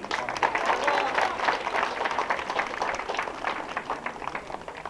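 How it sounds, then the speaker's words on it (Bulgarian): A crowd at a Bulgarian youth football awards ceremony applauds with steady, dense clapping for several seconds, fairly loud and close, with some voices mixed in. "Аплодисменти!"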